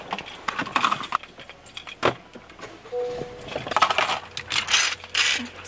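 Keys jangle as someone heading out grabs a bag and keys, with light metallic clinks and rattles scattered through a few seconds of handling noise, fairly close.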